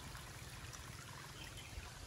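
Spring water from a mountain stream in the Konkan countryside trickles along in a steady, faint, unbroken wash, with no voices.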